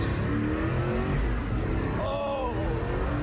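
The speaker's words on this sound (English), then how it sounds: "This is the fastest American-made car." The fastest American-made carbon-bodied car accelerating on an open road, a loud continuous engine roar with rising whining pitch sweeps as it revs up through the gears, recorded close from inside or beside the car.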